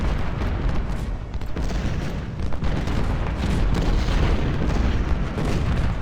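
In a Civil War battle in the video game Ultimate General: Civil War, artillery and massed musket fire pound without pause. Heavy booms and crackling volleys overlap into a loud, dense barrage that fills the whole stretch.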